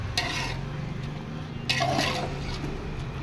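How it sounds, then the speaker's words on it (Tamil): Masala-marinated chicken frying for biryani in a pot, with steady sizzling and bursts of wet stirring and spoon scraping against the metal, close and continuous. "நல்லா ஃப்ரை பண்ணுறேங்க"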